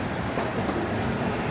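Chennai Egmore–Mangaluru Express passing close by, a loud, continuous broadband rumble and roar of rolling coaches with no talk over it.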